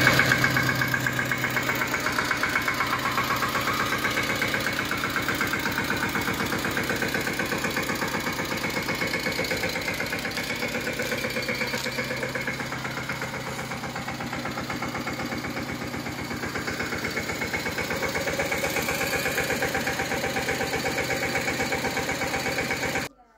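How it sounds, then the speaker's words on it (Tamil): A Mahindra Yuvraj 215 mini tractor engine runs steadily at idle with a constant rapid knocking chug, loud and close throughout, with no talk over it. "இப்போ இந்த வண்டியோட இன்ஜின் ரன்னிங் வீடியோவை பார்ப்போம்."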